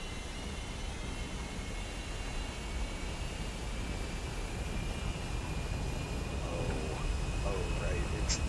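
Steady broadband roar of a J-8B jet engine in the War Thunder flight game, loud and continuous throughout with no pauses.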